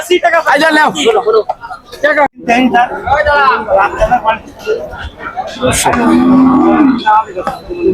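Cattle moo loudly at a busy rural livestock market, the Dugdugi cattle fair, with long lowing calls rising over a steady babble of buyers and sellers talking close by.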